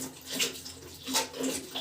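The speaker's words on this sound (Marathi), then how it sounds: "आउटलेट मधून पाणी चालू झालं" Water runs steadily from the outlet of a small electric water heater (geyser), a soft continuous splashing stream with slight surges, close by and moderately quiet.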